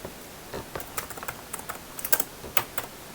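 Keys clatter on a computer keyboard as a command is entered for code_saturne 7.0 mesh joining, a quick run of close, crisp taps over about three seconds with no voices.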